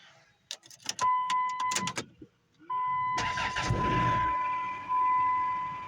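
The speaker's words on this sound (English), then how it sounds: "I suppose we'll do a quick will it run on the old Caravan here." An old Dodge Caravan van engine cranks with a chime ringing, then catches and settles into a steady close idle.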